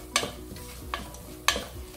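Sliced large onion with a little salt is stirred in a hot pan, producing three distinct scraping strokes of a spoon over a faint, steady sizzle.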